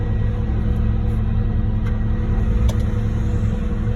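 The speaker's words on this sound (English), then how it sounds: "Waiting in line to offload dual pump truck here." A concrete pump truck's diesel engine idles steadily while waiting in line to offload before a 60-yard pour, a constant low rumble that stays close and even throughout with no talking.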